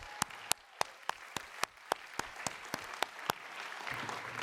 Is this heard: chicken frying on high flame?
no